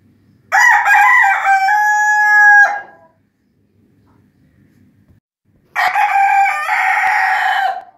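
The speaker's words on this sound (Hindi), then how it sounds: "ये देखें, ये मुर्गी अंडा देने के लिए बैठ गई।" A hen settling down to lay an egg gives two loud, drawn-out calls from close by, each about two seconds long and separated by a quiet pause.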